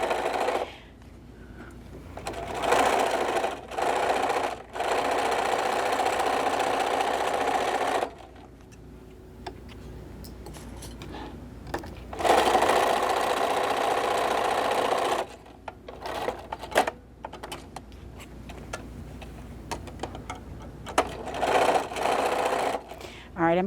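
A sewing machine stitches a seam on fabric for a microwave potato bag at about a 2.5 stitch length, running in steady whirring bursts of several seconds broken by pauses, with stop-start clatter toward the end.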